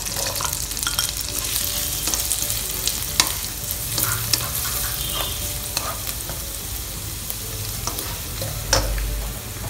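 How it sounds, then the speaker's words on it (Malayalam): Butter sizzles in a hot pan, a steady frying hiss with occasional clicks and scrapes of stirring and a few low thumps. "പാൻ ചൂടായിട്ടുണ്ട്, അതിലേക്ക് ബട്ടർ ആഡ് ചെയ്യാം."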